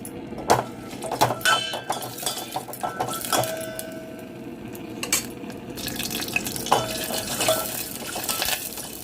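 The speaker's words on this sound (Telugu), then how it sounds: "ఇప్పుడు వెల్లుల్లిపాయలు ఆవాలు జీలకర్ర ఎండుమిర్చి వేసేసుకుందాము వేగాలి బాగానే" Garlic, mustard seeds, cumin and dried red chillies fry in heated oil and ghee for a lentil dish, with a soft sizzle under frequent metallic clinks and scrapes of a spoon against the pan.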